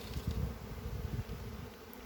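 Honey bees buzz in a dense, continuous drone at an open hive during a spring inspection, close and steady, with no voices.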